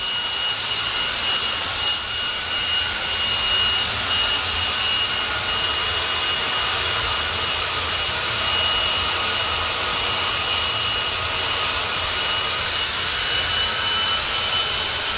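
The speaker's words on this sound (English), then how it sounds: "Fire Force 5 jet dragster fired up" Fire Force 5 jet dragster engine running at a loud, steady, roaring jet whine with a hissing edge, close by and unbroken for the whole stretch, with no voices.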